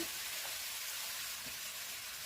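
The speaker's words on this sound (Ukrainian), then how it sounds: "Все перемішую і смажу на великому вогні приблизно 2-3 хвилинки." Steady, close sizzling of potatoes frying with spices over high heat in a pan, a continuous hissing crackle with no voices.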